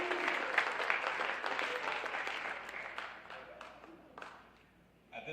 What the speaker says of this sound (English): Let's give one more round of applause for our first-year letter winners.